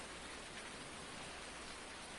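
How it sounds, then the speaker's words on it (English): Continuous rainfall in the Farming Simulator 19 video game, a uniform broadband patter of drops, moderately loud and unchanging, with no talking. "so it keeps raining here"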